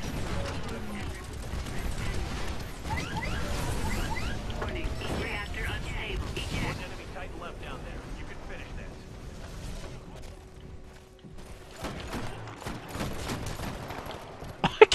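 Gunfire and clattering weapon mechanics from the shooter game Titanfall, bursts of shots crackling through a dense, busy mix of game effects that runs steadily throughout with a few sharp loud cracks near the end.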